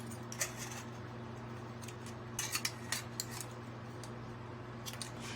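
Scissors snip ridge marks off a piece of aluminum can, giving a few quiet, sharp metallic clicks and snips over a low steady hum.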